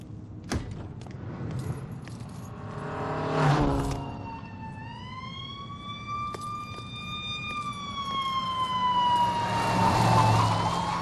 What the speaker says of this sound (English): I think I hear sirens.